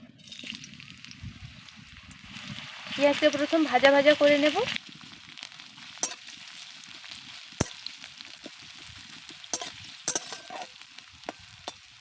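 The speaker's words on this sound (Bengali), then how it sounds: "এবার দিয়ে দিচ্ছি কেটে রাখা পেঁয়াজ" Chopped onions dropped into hot oil in a wok, a loud burst of sizzling and hissing that settles into softer frying with scattered scraping stirs and clinks.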